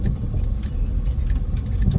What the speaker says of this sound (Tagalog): Buti nilang maliit na sasakyan ng kasalubong ko guys